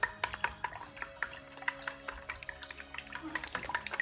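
Eggs for a Cantonese tomato and egg stir fry are whisked in a bowl, producing quick, rhythmic taps and clicks of the utensil against the bowl at a quiet level.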